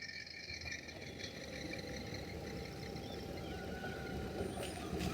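A 2017 Maruti 800 climbs a hill with a steady, rattling engine drone at low level, continuous throughout with no talk.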